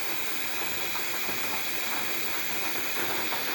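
Beef hits a hot pan of fried spices and garam masala with a loud, continuous sizzling hiss that stays steady and close throughout, with no talking.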